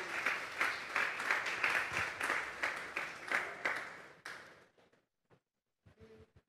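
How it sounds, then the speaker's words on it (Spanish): A church congregation claps in a burst of applause offered to God, loud at first then fading out, followed by near silence with a few faint sounds. "Denle una ofrenda de palmas a Dios"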